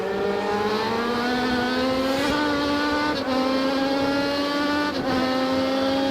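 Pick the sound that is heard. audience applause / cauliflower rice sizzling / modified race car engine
modified race car engine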